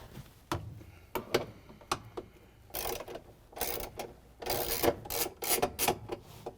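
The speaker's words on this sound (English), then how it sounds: "we're going to use the 3/8" socket with a ratchet and an extension to remove the bolts" 3/8 inch socket ratchet with an extension backing bolts out of a GE washing machine: a series of short, sharp clicking bursts, then longer rapid ratcheting runs, close and fairly quiet.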